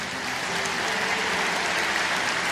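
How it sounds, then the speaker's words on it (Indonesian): Church congregation applauding: dense, steady clapping from many hands, loud and sustained throughout with no pauses or voices standing out. "berikan tepuk tangan untuk dia."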